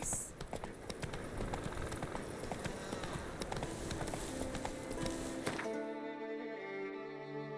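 Roach the horse galloping in The Witcher 3, a steady fast clip-clop of hooves running for several seconds before fading into quiet music, with a voice urging it on.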